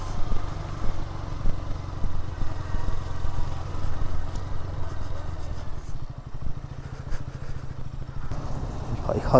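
KTM Duke 200 motorcycle engine while riding on a road, a steady low rumbling drone with road and wind noise, continuous and close, rising slightly near the end.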